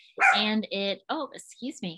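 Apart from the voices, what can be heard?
dog barking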